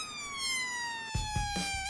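A police siren wails continuously, a steady electronic tone slowly dipping in pitch, with a few soft thumps near the end.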